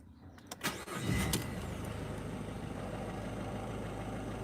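A used car recently imported from Europe, with about 232,000 km, cranks briefly and fires up, then settles into a steady, close idle with no talk over it.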